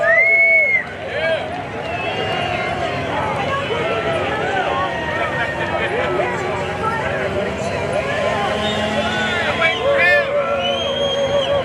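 A packed crowd at Grand Bend Motorplex drag racing keeps up a long, loud stretch of cheering and shouting, with many overlapping voices, yells and whoops rising and falling throughout.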